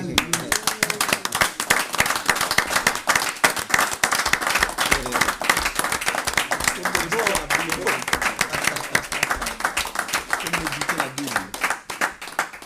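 Church congregation applauding together, a dense steady roar of many hands clapping throughout, with voices mixed in underneath.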